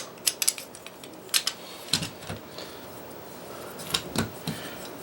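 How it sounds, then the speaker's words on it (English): A metal grill on a DIY alcohol stove cook stand being handled and flipped over, a run of sharp close metallic clinks and taps in irregular clusters, moderately loud with quiet gaps between. "I could flip this grill"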